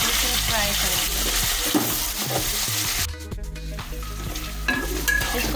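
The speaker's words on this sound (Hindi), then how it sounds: "अब हम इस प्याज में मटर डाल देंगे और मटर को अच्छे तरीके से फ्राई करेंगे" Green peas tossed into browned onions in a hot pan crackle and sizzle strongly, with stirring clatter and a sudden burst of sharper frying partway through.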